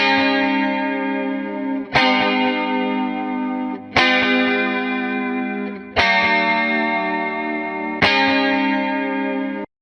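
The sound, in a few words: funk guitar track with reverb and delay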